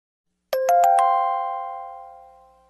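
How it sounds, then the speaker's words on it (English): A bell rings four quick times, then its deep tone hangs and slowly fades away, clear and alone. "Sound of a bell."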